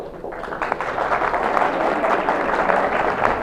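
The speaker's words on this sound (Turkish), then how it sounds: "Bu alkışlar sizin içindi" Applause from an audience at a library anniversary event, a loud, dense patter of many hands sustained throughout.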